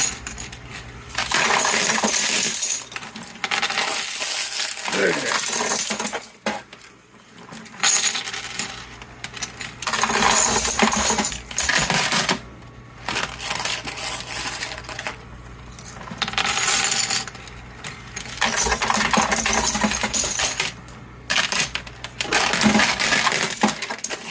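Handfuls of coins and chips rain into an arcade coin pusher machine in repeated loud, close cascades of metallic clinking and rattling, broken by short quiet gaps.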